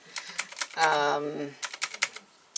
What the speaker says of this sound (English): You get a tactile feel about halfway through the press, and it clicks. You can hear it.